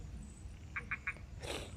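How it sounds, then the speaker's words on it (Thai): Narrow-mouthed toads calling at night in the rain give three short, evenly spaced chirping croaks, fairly faint and slightly distant, followed by a brief louder rustling burst over a low background hiss. "อึ่งฮ้องหลายทุกคนเลย"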